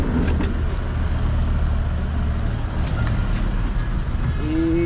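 A car is being maneuvered into a spot in a parking lot, its engine running at a steady low rumble with a faint background murmur throughout.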